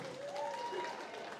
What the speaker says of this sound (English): Give Natasha a round of applause.